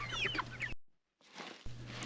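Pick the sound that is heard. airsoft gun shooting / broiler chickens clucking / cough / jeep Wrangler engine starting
broiler chickens clucking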